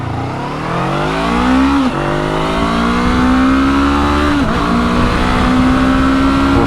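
A Honda NX500 motorcycle accelerates hard from a standstill toward 60 mph, its engine rising in pitch through each gear with two clear shift dips, loud and close throughout.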